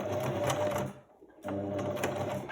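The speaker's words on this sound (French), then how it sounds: "Et je vais faire ma couture tout du long." Sewing machine stitching a seam along fabric, following a marked line: a steady, close mechanical whir that pauses briefly mid-clip, then resumes.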